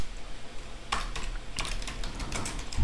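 Typing on a computer keyboard comes through as a quick, close series of light key clacks in short bursts over a low background hum.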